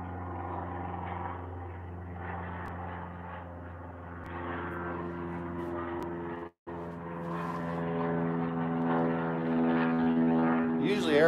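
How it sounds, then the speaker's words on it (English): A propeller airplane drones overhead as a steady, faint, tonal hum that builds slightly louder toward the end, heard indoors in a workshop. "Usually airplanes aren't that loud."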